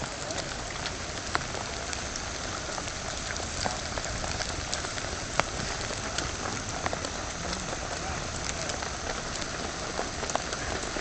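Steady rain pours down at a fishing park in Chiang Mai, a dense, even hiss of drops striking surfaces with occasional sharper splats, continuous throughout.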